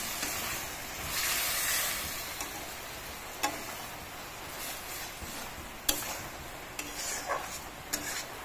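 Water poured into a pan of frying potatoes gives a broad, steady sizzle and hiss, with occasional sharp clinks of a utensil against the pan.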